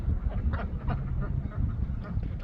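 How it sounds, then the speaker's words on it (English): Ducks quack softly and repeatedly on a backyard farm, a low muffled chorus of honking calls layered over steady rustling and background noise. "Oh, you waking up, ducks?"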